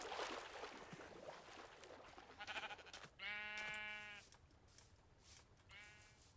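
In the Society: Sunlit Valley video game, a sheep gives two short, nasal bleats, one after another, soft and somewhat distant over a quiet ambient background.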